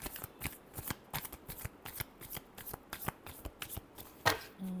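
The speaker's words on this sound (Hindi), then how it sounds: "Last shuffle." A deck of cards being shuffled by hand for a card reading: quick, crisp riffling bursts repeat steadily and up close for several seconds, ending with a sharper snap.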